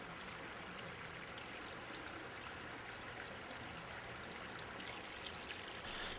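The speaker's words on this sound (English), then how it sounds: "Once the water hits the grate on the first tray, it spreads out evenly and will flow evenly throughout the whole tower." Water trickles steadily through the stacked trays of a homemade trickle filter tower fed from a pond pump, a constant soft splashing and dribbling flow at low level with no voices.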